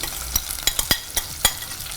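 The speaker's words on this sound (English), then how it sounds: "you can hear that sizzle in the pot" Close sizzling of food frying in hot coconut oil in a pot, with a few sharp crackles and spatters popping irregularly.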